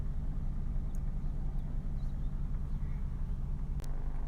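A 2008 Honda FR-V 1.8 i-VTEC EX engine runs steadily at idle, giving a constant low rumble and hum throughout with no clear changes, heard fairly close with faint incidental clicks.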